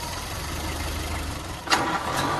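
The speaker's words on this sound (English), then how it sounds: "the motor just purrs" A nearly century-old Ford Model A four-cylinder engine runs at a car show with a steady, close, loud idle. A brief sharper burst comes near the end.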